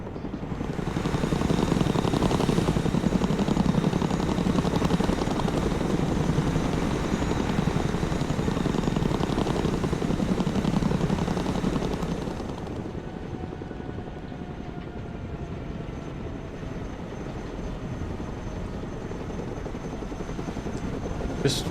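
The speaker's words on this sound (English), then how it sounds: "Cargo helicopter approaching the DZ." A cargo helicopter in the war game Broken Arrow, set in the Baltic, flies past with a loud, steady rotor and engine drone that eases off a little partway through and then holds at a lower level.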